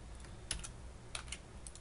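A few soft keystrokes on a computer keyboard come in two small bursts against a quiet background.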